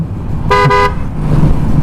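A horn honks once from a motorcycle on a road in Gapan, Nueva Ecija, a single bright toot of about half a second that breaks briefly in the middle, heard over steady low traffic rumble.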